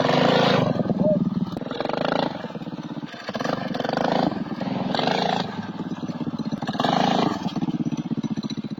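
A small CT200U-EX minibike engine regeared as a trike strains and drones at a high gear ratio, rising and falling in repeated surges, loud and close.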